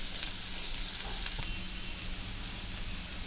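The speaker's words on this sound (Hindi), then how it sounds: "प्याज को अच्छी तरह से भून लेंगे।" Chopped onions fry in a pan for chicken gravy, giving off a steady, low sizzle with faint crackles throughout, no voices over it.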